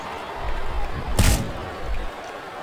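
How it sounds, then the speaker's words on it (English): Arena crowd in the WWE SmackDown vs Raw 2007 video game, a steady murmuring roar that swells into a brief loud burst of noise midway, then settles back to a constant background rumble. "This capacity crowd is making their opinions known tonight."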